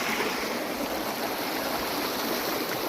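A countryside river runs past close by, its rushing, gurgling flow a steady loud wash with no talk over it.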